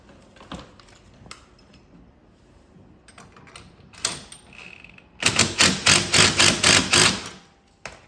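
A bolt on a 1Rig Scratchers Catalyst ZR 137 mounting bracket is tightened with a 9/16 socket and wrench: a few scattered clicks and knocks, then a quick run of ratchet clicks in short rhythmic bursts lasting about two seconds.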